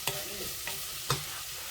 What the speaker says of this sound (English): We need to cook the onions and the chilies and the garlic till the onions are quite slightly brown.